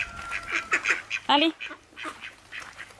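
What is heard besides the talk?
duck quacking while eating fries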